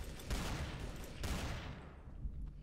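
Gunfire in the game Garry's Mod: a few sharp, loud shots crack out in quick succession, each trailing off into a short echoing decay, with no talk over them.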